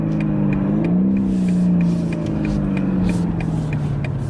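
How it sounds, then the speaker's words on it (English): A BMW M850 xDrive accelerates with a steady, droning engine note heard from inside, rising slightly then holding, loud and continuous with no speech. "we'll get to do the acceleration again"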